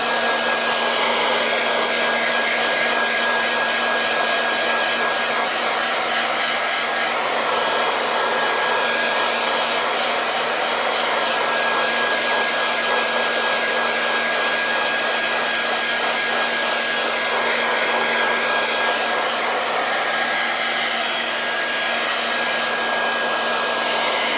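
A hair dryer drying paint on a stenciled sign blows continuously at a loud, steady pitch, with a constant whine and airy rush throughout.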